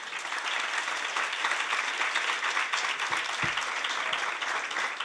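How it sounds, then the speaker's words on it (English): An audience at the close of a conference panel on social media in elections breaks into sustained, even applause, a broad wash of clapping from many hands filling the hall. "Please give our panelists a round of applause."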